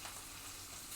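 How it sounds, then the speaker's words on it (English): Steady bubbling and hissing of water at a rolling boil in a pot, with no oil added, close and continuous, with no other sounds. "that water is now boiling."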